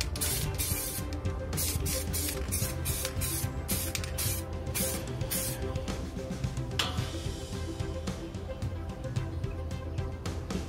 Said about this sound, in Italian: E date la prima mano di stucco bianco spray, tenendoci una distanza di almeno 20 cm.